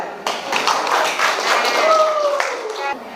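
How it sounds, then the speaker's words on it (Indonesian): Clapping for a class presentation, with a short burst of hand claps from a small group, close and fairly loud, mixed with a voice speaking over it. "Kasih tepuk tangan dulu."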